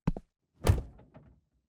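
A door used as someone rushes out: a quick light knock-like tap, a pause, then a heavy thudding slam close by that rings briefly and settles with a couple of faint rattles.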